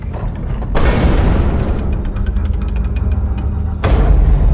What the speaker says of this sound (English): Varro, fire the docking clamps.